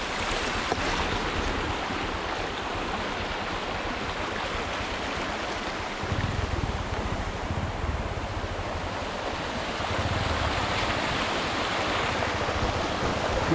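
A small stream beside a road near Sudagala, Sri Lanka, rushes steadily in a loud, unbroken wash of flowing water, with no voices.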